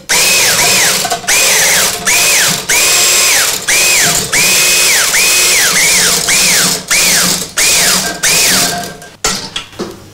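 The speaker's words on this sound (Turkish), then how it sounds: "El blenderının çırpıcısını kullanarak birazcık karıştırıyorum." A steady high-pitched motor whirs nearby, rising and falling in repeated bursts with brief stops, as a hand blender's whisk attachment mixes ice cream.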